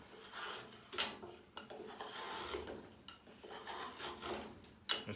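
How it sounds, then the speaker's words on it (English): A hand trim plane shaving pine gives a series of short, close rasping strokes of varying length, with sharp scrapes at each start, quiet between passes and no talk. "this pine cuts a little bit easier than the oak that we were testing it on"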